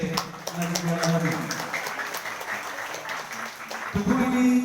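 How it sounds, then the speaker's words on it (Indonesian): An audience at a school ceremony claps for a junior high school, a scattered round of applause mixed with speech from a voice over a loudspeaker. "Tepuk tangan dulu untuk SMP Negeri 2 Lahegi"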